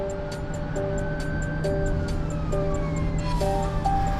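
An ambulance siren wails in a repeating two-tone pattern over steady traffic rumble, fairly close and continuous throughout.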